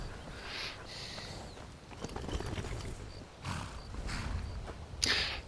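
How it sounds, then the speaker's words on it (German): A horse in a video game snorts and shifts with scattered soft hoof sounds and bursts of breathy noise, fairly close over a low ambient bed. "Du bist so ein feines Pferd."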